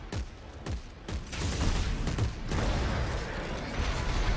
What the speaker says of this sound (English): Did your shotgun just shoot all the way over there?